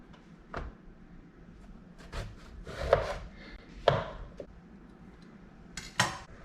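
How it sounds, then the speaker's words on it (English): Knife cutting rinsed eggplant into cubes on a board, irregular thuds and taps spaced across the moment, fairly close and quiet. "Start by rinsing the eggplant and then cutting it into cubes"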